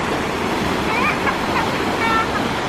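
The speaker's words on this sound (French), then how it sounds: "et là il y a la rivière sauvage." Broad, steady rush of churning water from a wild river water ride at Center Parcs Domaine du Bois aux Daims fills the whole clip, loud and close, with faint voices mixed into the wash.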